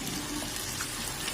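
Water pours steadily into a pan of sautéed eggplant and tomato, a continuous close splashing rush with no talk.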